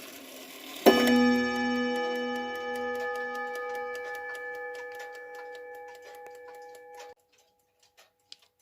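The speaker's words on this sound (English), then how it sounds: "I'm going to demonstrate it. And activate the striking train." A Jaquemar wall clock strikes a single loud note on its chime rod, which rings on with a long metallic decay for about six seconds beside a steady ticking, then cuts off abruptly into near silence.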